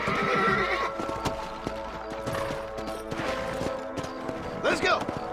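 Horses gallop and neigh in the Western video game Red Dead Redemption, with rapid hoofbeats clattering throughout and a sharp whinny rising near the end, mixed with muffled voices.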